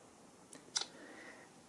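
A Samsung Galaxy A70 phone camera takes a photo, a faint pair of short clicks followed by a brief, quiet tone, with no talk.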